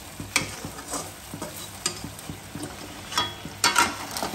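Onions fry in a pan while being stirred, a low sizzle under repeated scrapes and clinks of a utensil against the metal, irregular and close, with no voices.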